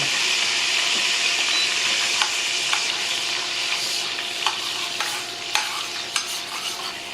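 Butter and garlic sizzle steadily in a soup pot for a Brussels sprouts and sausage soup, a continuous close hiss broken by a few sharp stirring clinks and scrapes, with no talking.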